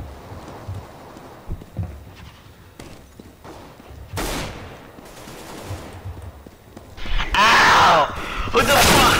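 Video-game gunfire comes in short bursts of rapid shots, loudest and densest toward the end, under the loud, agitated voice of a player.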